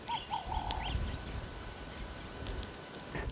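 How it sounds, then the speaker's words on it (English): Faint birdsong drifts in from a distance, a few short chirps and warbles over a low outdoor rumble, in the countryside town of Somerset East, Eastern Cape, South Africa. "And the birds, listen."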